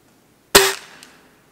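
Single sharp gunshot outdoors in winter, a loud close crack with a quick decaying echo, standing alone with no talk.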